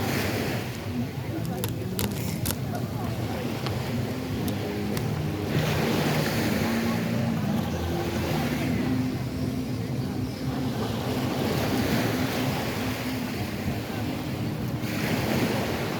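Ocean waves rolling in on Fort Myers Beach, Florida, a continuous wash of surf with heavy wind buffeting the microphone, steady and fairly loud throughout.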